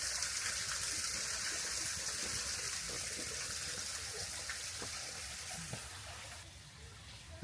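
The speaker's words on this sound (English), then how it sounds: "They've got the water running through all the stones so you can walk it." Water running over and between stones in a garden in Cape Town, a steady, continuous rushing trickle that stays even throughout and eases slightly near the end, with no voices.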